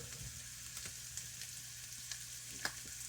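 Onions sizzle and fry in a pan with a steady, soft crackle, a few brief clinks and stirring sounds breaking through, no voices.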